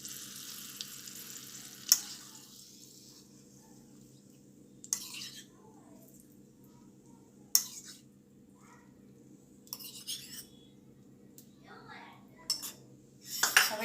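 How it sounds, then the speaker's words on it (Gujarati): Hot tempering is poured from a spoon over Gujarati khandvi, giving sharp metal clinks and brief sizzles against a low steady background hum, fairly quiet and near. "તો આપણે આ રીતે ચમચીથી આપણો વઘાર ખાંડવી ઉપર રેડીશું."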